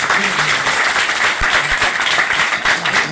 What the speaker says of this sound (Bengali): জোরে ক্ল্যাপিং